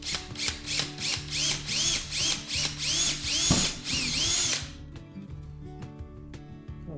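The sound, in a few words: drilling a hole through a hat on a wooden block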